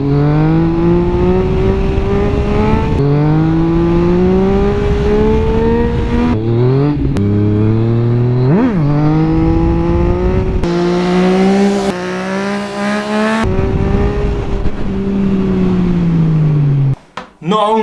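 Motorcycle engine revving hard during a wheelie, pitch climbing and dropping through repeated gear changes with loud, close intake and exhaust roar and a brief sharp rev spike midway, sustained almost throughout before cutting out at the end.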